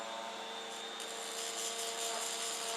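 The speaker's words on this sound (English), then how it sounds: "So I've tried a Dremel" A Dremel rotary tool grinds chrome off a Yamaha XV750 Virago motorcycle headlight rim, giving a close, steady, high-pitched whine with a constant tone and a slight rise in intensity partway through.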